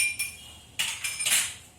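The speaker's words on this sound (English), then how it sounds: "Here in glass 1, I am adding sugar and mixing it." A spoon stirs sugar into water in a drinking glass, giving a few sharp, separate clinks against the glass, close and fairly quiet, with no talking.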